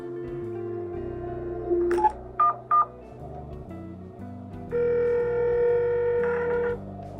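Joy-Con HD Rumble in Game Builder Garage imitates a phone being dialed: a string of short electronic dialing tones, a few brief beeps, then a longer sustained tone, clear and buzzy with no talk.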